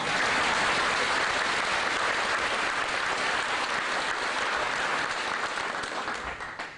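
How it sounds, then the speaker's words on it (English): A concert audience at a live indie rock show in Venice, Florida claps loudly and continuously, a dense wash of applause that fades slightly at the end. "Please hold the applause until the speech is finished."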